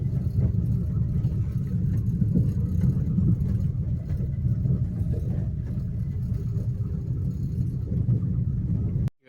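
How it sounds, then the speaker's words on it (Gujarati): A Maruti Swift petrol car driving, its engine producing a steady low rumble and drone throughout with slight fluctuations, cutting off abruptly at the very end. "આ છે મિત્રો સ્વિફ્ટ પેટ્રોલ એન્જિનનો પાવર."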